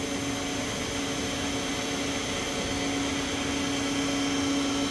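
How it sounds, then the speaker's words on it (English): A Haas VF-3 vertical machining center runs with its spindle at 4000 RPM and a feed of 60 inches per minute. It gives a steady, even broadband whir with a constant hum under it, close and unbroken, and no one speaks. "the ways and the drives and the ball screws sound very, very quiet at this point"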